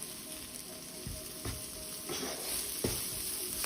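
Spices being stirred and mixed in a hot pan, a continuous loud sizzle with periodic scraping strokes of a spoon, no voices.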